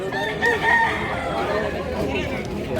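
A rooster crows loudly against a busy background of other chickens clucking and people chattering nearby, at a rooster sale in Consolacion, Cebu.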